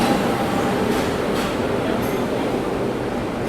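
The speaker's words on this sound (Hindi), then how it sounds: "यहाँ पर प्लेटफॉर्म नंबर 5 पर आ रही है LTT गोरखपुर" The LTT Gorakhpur Express rolls into platform 5 at a busy Indian railway station, a loud continuous rumble of train wheels and carriages filling the whole stretch.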